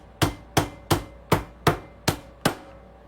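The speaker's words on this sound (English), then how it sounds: "I'm just gonna smash this garlic with my hammer." A hammer's spiky side smashes garlic cloves in seven sharp, evenly spaced strikes, each a loud, close thud with a brief ring, heard alone with no talking.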